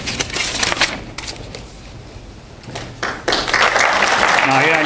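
A university event audience claps loudly for several seconds, the applause dipping briefly in the middle before swelling again, with a voice speaking over it near the end.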